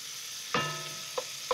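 Tomato paste caramelizes in a hot spot of a pan for cauliflower and tomato soup, giving a soft, steady sizzle with a few sharp clicks of a utensil.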